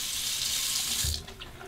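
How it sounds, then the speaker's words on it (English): Hot tap water runs steadily into a sink over a Derby safety razor, a close hissing splash that shifts briefly near the end. "let's warm the razor under the hot water"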